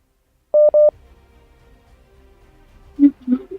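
A phone that had to be reset sounds dialing tones: two short identical beeps in quick succession, a pause with faint hum, then two softer, lower blips near the end.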